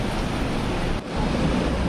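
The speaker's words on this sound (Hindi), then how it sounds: "क्या ही पानी बह रहा है, बहुत ही खतरनाक।" Cold mountain river water rushes near Kedarnath, a loud, broad, continuous roar with a brief dip midway and no talking.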